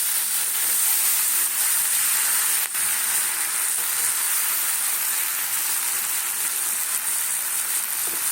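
Mixed winter vegetables fry in a pan and are stirred, making a steady, loud, close sizzle with a single faint knock partway through and no talking.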